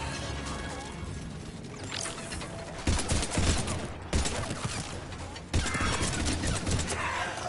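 Bursts of weapon fire in Mass Effect 3, loud clustered volleys with sharp cracks, separated by brief lulls, amid steady game ambience.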